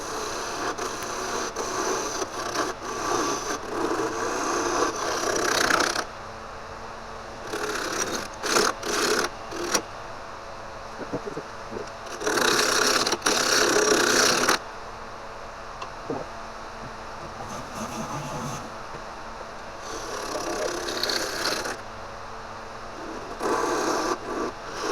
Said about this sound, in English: I'm really just going to kind of smooth this transition a little bit and level off the base.